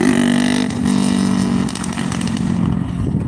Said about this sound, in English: I don't know why they built motorcycles to be that loud.